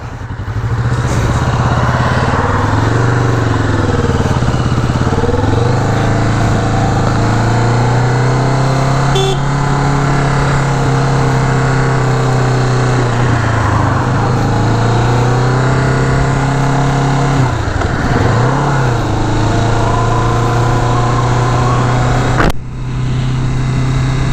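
A 2017 Kawasaki Vulcan S motorcycle being ridden, its engine droning loud and close with a steady low hum that rises and dips as the throttle shifts, running the whole time.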